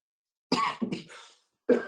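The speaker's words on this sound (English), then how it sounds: "trying to suppress a cough at the same time" A few short, harsh coughs break out close up, with a brief pause between bursts.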